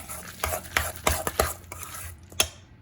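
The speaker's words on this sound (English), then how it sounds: "So again, that was 5 eggs. Turmeric, and stir it." Eggs with turmeric stirred in a bowl for a breakfast casserole, a utensil scraping and clinking against the side in a handful of distinct strokes, close and fairly quiet with no talking.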